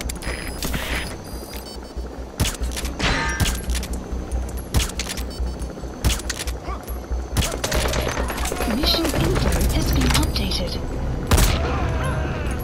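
Bursts of gunfire in the video game Metal Gear Solid 5: The Phantom Pain, with rapid machine-gun fusillades and heavy booms, loud and close, with a voice speaking over parts of it.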